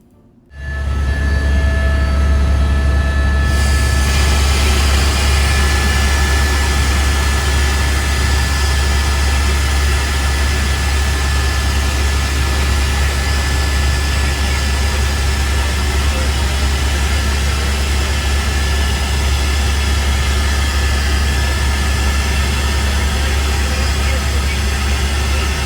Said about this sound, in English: We spotted this helicopter